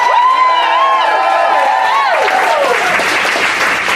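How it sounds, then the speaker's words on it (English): Stand-up comedy audience breaks into loud, sustained applause with cheers and whoops, a dense wall of clapping and voices that stays strong throughout and eases only slightly at the end. "Keep clapping for Sally Patrick!"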